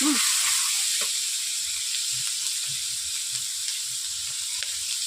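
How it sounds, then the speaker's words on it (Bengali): Onions fry in a kadai for egg chowmein with a loud, continuous sizzling hiss close by. Faint clicks of stirring come through now and then. "এরপর আমি কড়াইয়ের মধ্যে দিয়ে দিয়েছি পেঁয়াজগুলোকে"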